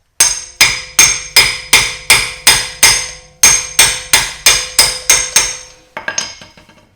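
A hammer taps a tool during an EBC brake install on a 2011-2017 Honda Odyssey, about thirteen sharp, evenly spaced metallic strikes with bright ringing tails, close and loud, then a few softer rattling taps at the end, with no talking.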